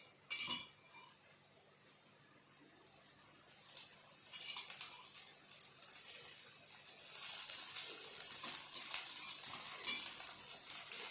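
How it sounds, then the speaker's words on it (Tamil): A wheat rava dosa fries on a hot pan with a soft, steady hiss and crackle that grows louder and denser toward the end, heard close with no voices. "தோசை நல்லா வெந்துருச்சு. கிறிஸ்பியாக இருக்கிறது தெரியுது உங்களுக்கு? சவுண்ட் எப்படி கேட்குது பாருங்க."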